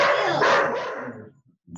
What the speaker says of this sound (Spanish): ¿Cuánto ladrido?